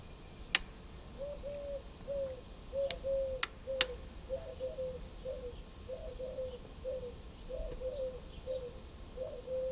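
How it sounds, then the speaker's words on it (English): A bird coos repeatedly in a soft, evenly spaced rhythm beside an old Sony TR-712 AM table radio, with a few sharp clicks and faint radio hiss in the background. "Turned it on and the bird went nuts."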